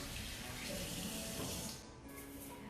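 Steady running water from a kitchen sink tap while rinsing after mixing ricotta orange pistachio cookie dough, a continuous fairly close splashing rush with no talk.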